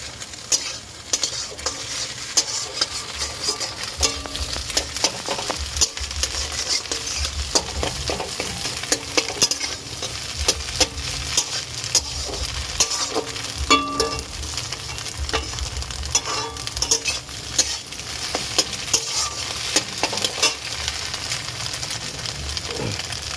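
Pasta is stirred in a frying pan, with steady scraping and stirring strokes over a continuous close sizzle and the occasional clink of a utensil against the pan.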